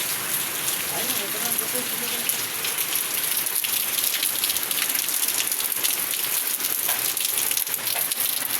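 Steady rain patters on a surface throughout, a dense hiss with scattered drops, and faint voices murmur underneath.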